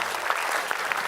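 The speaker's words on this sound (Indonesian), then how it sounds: "Apa-apaan jawaban kayak gitu kalian tepuk tangan, apa-apaan?" An audience applauds at a live comedy show, steady dense clapping filling the whole moment at close, even loudness without a break.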